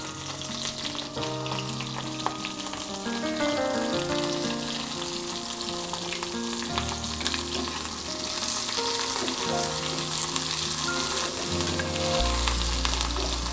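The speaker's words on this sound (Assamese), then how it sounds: "মিঠাতেলখিনি গৰম হোৱাৰ পিছত মই দিম কাটি থোৱা পিঁয়াজখিনি মই দি দিলোঁ" Chopped onions sizzle steadily in hot mustard oil in a pan, a loud continuous frying hiss heard close up with no one talking, while soft music runs underneath.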